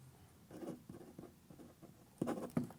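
A pen-shaped mobile phone writes on paper, making faint, scratchy strokes in short bursts, with a slightly louder pair of strokes at the end. The scene is otherwise quiet.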